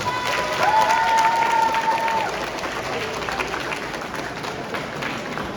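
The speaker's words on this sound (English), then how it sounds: "give these guys a loud ovation" At an all-district elementary concert, students give their parents a loud, sustained ovation: dense, steady applause from a large crowd, with a brief whistle-like tone early on.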